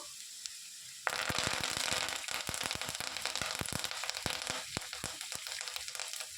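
Curry leaves hit hot oil with a sharp sizzling crackle, followed by a steady hiss dotted with rapid pops and spits, close and fairly loud.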